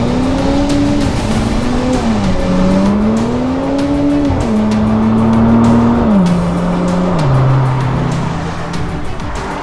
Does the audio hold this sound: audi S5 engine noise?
yes